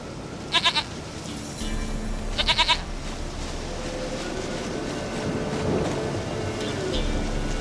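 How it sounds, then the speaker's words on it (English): A goat in the video game The Witcher 3: Blood and Wine gives two short, stuttering bleats in quick succession over a low ambient game soundscape. "Goat of mine, dearest, sweetest goat."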